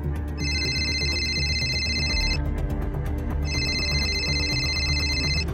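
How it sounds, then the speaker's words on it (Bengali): A mobile phone ringtone rings in two bright electronic bursts about two seconds long, separated by a brief pause, loud and close over a low background hum. "হঠাৎ পেরুর মোবাইলটা বেজে উঠল।"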